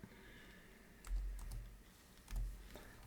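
Soft typing on a computer keyboard while entering a spreadsheet function, faint scattered keystrokes with a couple of slightly heavier presses over a low background hum.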